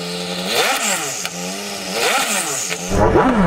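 A car engine revs repeatedly in rising and falling waves, the exhaust burbling and popping loudly close by.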